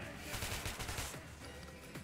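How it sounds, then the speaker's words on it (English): Rapid bursts of gunfire in Metro 2033 Redux crackle in a dense, continuous volley at moderate volume, with no speech over it. "the whole place erupts into gunfire"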